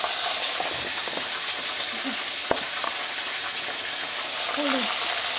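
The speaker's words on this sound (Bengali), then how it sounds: "এবার এটাকে ভালো করে ভেজে দেবো" Food frying in a pan in a village kitchen, a steady close sizzle and hiss running throughout with an occasional sharp tap and faint voices in the background.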